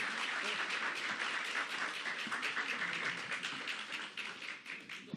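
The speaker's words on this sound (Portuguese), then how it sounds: "Reginaldo de Jesus, as palmas já dizem tudo." Audience applause after a talk on the drums of São Luís, a dense, steady wash of many hands clapping that fills the whole clip and tapers slightly toward the end.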